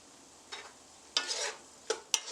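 Cajun seasoning, onion powder and salt being stirred into raw shrimp in a bowl, a few short scraping, wet mixing strokes spaced apart, close and fairly quiet.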